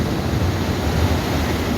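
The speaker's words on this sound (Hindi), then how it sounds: "ऊंची लहरें हैं और पानी जो है समंदर से बिल्कुल ओवर होके बाहर रोड की तरफ निकल रहा है" High sea waves surge at Sandspit Beach in Karachi, heard as a continuous loud roar of surf mixed with wind buffeting the microphone, with no distinct individual breaks.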